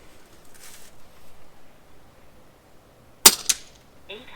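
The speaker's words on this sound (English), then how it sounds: "let's see how fast we can get the gun to shoot with this regulator setting." An FX DRS air rifle fires with its magazine installed: after a near-silent stretch comes a sharp, close crack, with a second smaller report a moment later and a brief faint hiss at the end.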